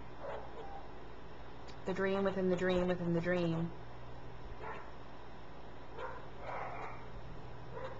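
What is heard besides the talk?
neighbor's dogs barking in the background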